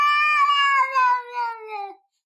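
A single drawn-out house cat meow, clear and close, rising then slowly falling in pitch over about two seconds before stopping, with no other sounds around it.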